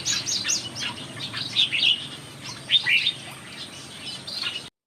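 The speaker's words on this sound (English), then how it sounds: "The red avardavat, red munia or strawberry finch, is a sparrow-sized bird of the family Estrildadae." Strawberry finches, or red munias, chirp in a large aviary with quick, high-pitched tweets in scattered bursts from several birds, fairly close over a soft background hum.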